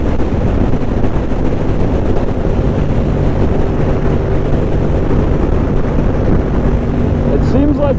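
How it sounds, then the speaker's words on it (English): Yamaha R7 motorcycle accelerating on the road, a steady engine drone buried under heavy wind rush against the helmet microphone, continuous for the whole stretch. "this bike picks up to 120 pretty easily, but anything after that, it slowly starts to struggle"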